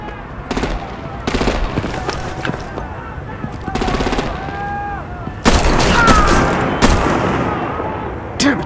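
Bursts of rapid artillery and machine-gun fire in the video game Batman: The Enemy Within, loud repeated volleys in clusters with heavier, denser shooting in the second half, mixed with other battle noise.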